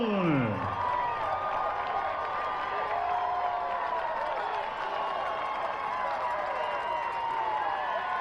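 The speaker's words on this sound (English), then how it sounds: "And you see the Grandview fan base cheering." Grand View football fans cheer from the stands after a touchdown at an NAIA national championship game, a broad, steady crowd roar that stays loud throughout, with an announcer talking over it.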